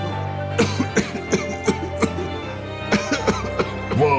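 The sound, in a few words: smoker coughing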